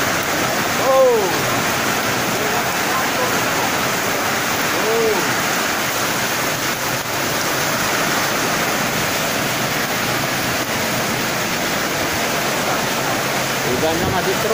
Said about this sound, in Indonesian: Hujannya masih terus.